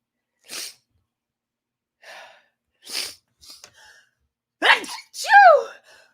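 A person sneezes several times in short bursts, with sharp breathy explosions separated by quiet pauses and a voiced gasp-like sneeze near the end, close and clear against silence.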